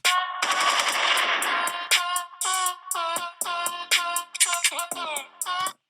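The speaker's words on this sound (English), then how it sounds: "Right here, I also added these machine guns." Rapid machine-gun bursts layered as sound effects in an edited soundtrack, loud and close, firing in several short volleys separated by brief gaps, with no talking.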